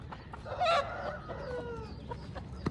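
An Aseel chicken clucks and squawks close by, a short burst of agitated calls with a louder peak near the start, over low background noise.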